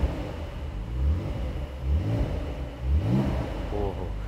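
A modern Porsche with a retro-styled design revs its engine in a few repeated rising blips, moderately loud and close, with someone talking over and between the revs.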